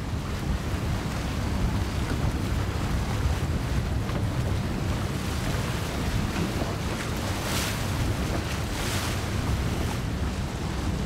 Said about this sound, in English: Oh, here we go, some waves